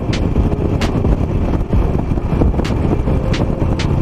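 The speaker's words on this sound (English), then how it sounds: "As you can hear, the bike is idling" A 16-year-old Harley-Davidson Nightster motorcycle idles in winter with a low, uneven burble, close by, with a few sharp clicks and wind buffeting the microphone.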